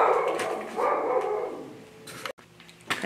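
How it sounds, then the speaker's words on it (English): A pet dog named Bama barks and whimpers indoors at another dog passing by the house, a cluster of agitated yips and barks at close range that taper off, followed by a couple of sharp sounds. "Bama's upset because there's a dog walking by the house"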